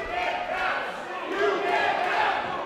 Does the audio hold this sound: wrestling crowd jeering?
yes